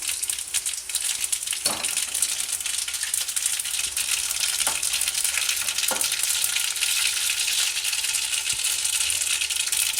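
Mustard seeds, cumin and dried red chillies frying in hot oil with a dense, loud crackling sizzle, with several sharper pops and clinks of a utensil against the pan rising through the hiss.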